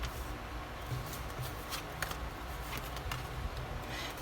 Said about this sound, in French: Allez, c'est parti, on pose les 6 cartes.